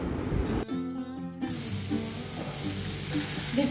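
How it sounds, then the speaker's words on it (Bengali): Fish pieces frying in a pan with oil for a sour fish curry, a steady close sizzle that continues alone with no talk. "ভেজে নিচ্ছি।"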